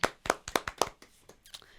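A handful of sharp, separate hand claps at an engagement celebration, close and somewhat uneven, fading into a few softer scattered claps at the end.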